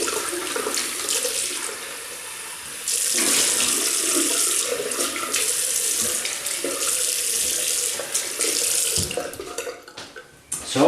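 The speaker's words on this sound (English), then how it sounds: "So just bear with me while I rinse off." Steady stream of running tap water into a sink while a Gillette razor is rinsed, continuous splashing with a brief drop in flow, then a few clatters near the end, no talking.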